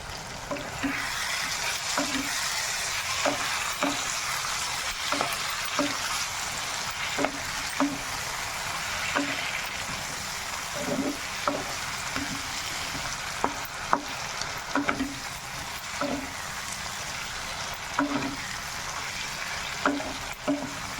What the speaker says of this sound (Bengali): একটু ভেজে নেব, মশলা দিয়ে একটুখানি পনিরগুলো ভেজে নেব।